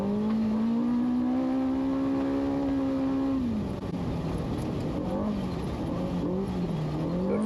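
A race car in a desert off-road race nears the finish line, its engine a steady, sustained drone that rises and wavers in pitch as it accelerates, heard alone and fairly close.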